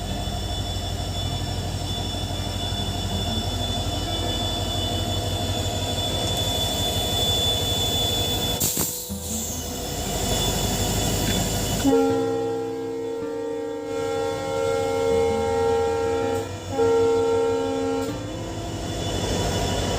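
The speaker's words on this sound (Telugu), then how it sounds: "అది ఆ పక్కనేమో ట్రైన్ పార్కింగ్ చేసిందండి" A train at Narsapuram railway station, a low rumbling engine drone and squealing wheels, then a loud sustained horn blast sounding close by in repeated long tones.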